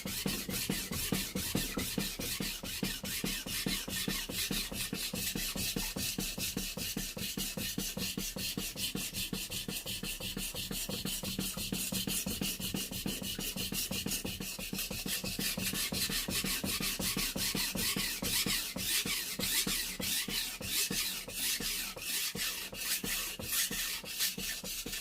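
Kitchen knife being sharpened on a Japanese whetstone, rapid rhythmic back-and-forth scraping strokes repeating steadily and close up, with no talking.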